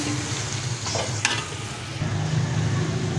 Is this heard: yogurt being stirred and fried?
yes